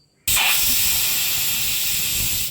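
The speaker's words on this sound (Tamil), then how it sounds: "விசில் வந்துடுச்சு. இன்னும் ஒரு விசில் வரட்டும்." A pressure cooker whistles as it vents steam while Tamil side dish cooks, a sudden loud hiss that starts sharply and holds steady and strong for a couple of seconds, alone with no talking.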